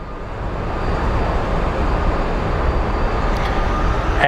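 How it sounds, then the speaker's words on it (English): A Delta Airlines Boeing 737 approaching over a bridge near Sky Harbor airport in Phoenix, a steady broadband roar that swells slightly and holds, distant but loud, with no talk. "I can hear another larger plane or whatsoever, maybe a smaller plane coming over the bridge"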